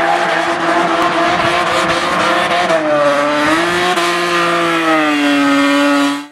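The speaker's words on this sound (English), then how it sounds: "For 9 years I've been trying to figure out the secret behind this musical exhaust sound." Formula 1 car's high-revving engine with a musical, harmonic exhaust note, loud and sustained, pitch dipping and rising before cutting off abruptly.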